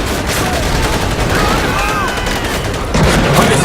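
Dense, loud gunfire from Medal of Honor: Pacific Assault rattles continuously in rapid bursts, swelling harder near the end, with voices mixed beneath.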